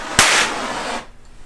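Mini homemade hydrogen HHO cannon exploding: a single sharp, loud bang up close, followed by about a second of fading noise before going quiet, with no talking.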